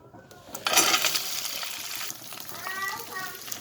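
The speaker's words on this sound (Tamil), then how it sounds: "இந்த வெண்டிக்காய் வந்து எண்ணெயிலே நல்லா ஃப்ரை ஆகணும்." Sliced okra (lady finger) hits hot oil in a pan, bursting into a loud, close sizzle that settles into a steady frying hiss while a voice talks over it.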